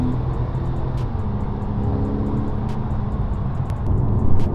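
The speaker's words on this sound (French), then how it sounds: "nous sommes dans une Carrera 4S de 385 chevaux" A Porsche 997 Carrera 4S engine, 385 horsepower, drones steadily from inside the cabin, a low continuous rumble that swells slightly near the end as it accelerates.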